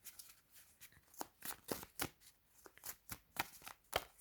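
A unicorn tarot deck being shuffled by hand, a run of quick, soft, close card riffles and slaps in an uneven rhythm, no talking.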